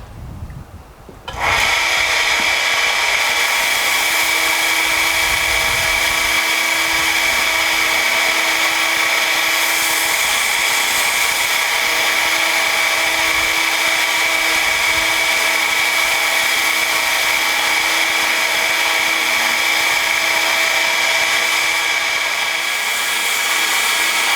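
Belt grinder polishing an English wheel anvil die, a steady loud high whine with constant abrasive hiss running unbroken for over twenty seconds after a brief quiet start.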